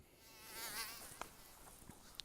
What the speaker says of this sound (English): I'm having to kill mosquitoes